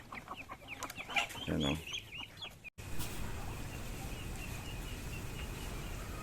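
Muscovy duck chicks peeping in quick high chirps while feeding at their bathing spot on a farm, close and busy, with someone speaking briefly early on before steady outdoor background noise.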